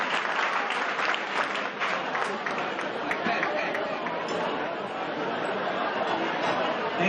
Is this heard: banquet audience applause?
yes